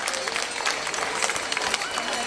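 Spectators applaud runners at a freedom road race in Pruszkowo, a dense, steady wash of clapping and crowd noise lasting a couple of seconds.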